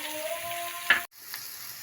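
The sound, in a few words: green onions frying in a pan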